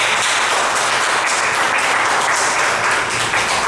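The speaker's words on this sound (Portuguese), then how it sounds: "Uma salva de palmas para o Senhor Jesus." A church congregation applauds in a steady, dense wash of clapping that holds at an even level for the whole stretch, with no break or voice above it.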